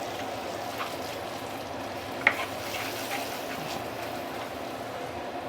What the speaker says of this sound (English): Then you need to keep on stirring